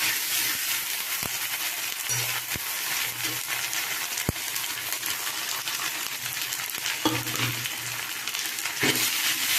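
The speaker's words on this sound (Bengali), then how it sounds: "আদা বাটাটা দিয়ে দিলাম এটা একটু ভেজে নেব" Ginger paste and ground spices fry with onion in a pan for a Bengali prawn curry, giving a steady close sizzle throughout, with an occasional clink of a utensil against the pan.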